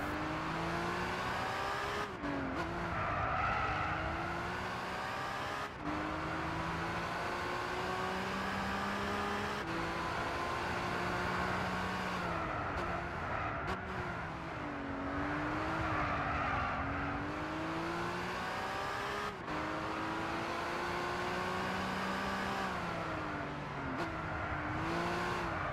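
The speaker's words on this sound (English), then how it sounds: "we are driving the 2011 Aston Martin 177 from Gran Turismo 6" A 2011 Aston Martin One-77 in Gran Turismo 6 drives Goodwood Hill Climb, its engine droning steadily and loud through repeated rising gear pulls, with brief dips at shifts and occasional tire squeal.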